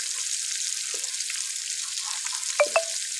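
Red chili, turmeric, salt and coriander powder frying in a pan for red lobia, a steady soft sizzle with a couple of brief stirring clinks near the end.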